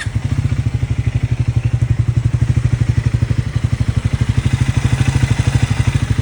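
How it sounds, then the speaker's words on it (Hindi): An older Triumph Speed 400 motorcycle with high mileage idles up close, its exhaust giving a loud, steady, rapid thumping beat that stays even throughout without any talk. "ओजी स्पीड 400 का एग्जॉस्ट नोट इंजन की आवाज़"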